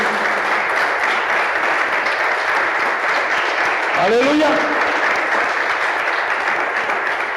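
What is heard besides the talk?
church congregation applauding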